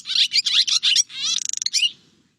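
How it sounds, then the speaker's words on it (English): A backyard songbird gives a loud, chittering call: a run of sharp, bunched chirps followed by a rapid trill, bright and close, heard alone against a quiet background. "It's a very loud, chittering beat or sweet single double bit."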